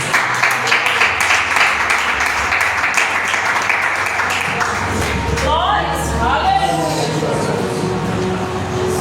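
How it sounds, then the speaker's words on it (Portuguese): A church congregation claps loudly and continuously through a worship service, with voices mixed into the applause and tuneful sounds rising near the end. "Desocupa suas mãos e aplauda Jesus."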